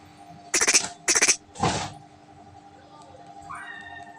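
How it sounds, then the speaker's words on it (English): A cat gives two short, bright meows close by, then a longer, lower drawn-out one, with a faint squeak near the end over quiet background hiss. "Cat."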